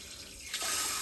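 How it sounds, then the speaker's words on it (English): Water rushes out of a handheld bidet sprayer hose on a toilet, a soft hiss that suddenly grows louder and fuller halfway through as the flow picks up. "So initially you have to allow some water to go out so that any air in the hose will go out completely."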